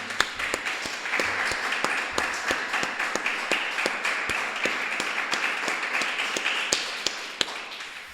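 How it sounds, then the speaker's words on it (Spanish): Church congregation applauding during a sermon, with rhythmic clapping at a steady pace and sharp, evenly spaced claps over a softer crowd wash. "Denle un aplauso al Señor."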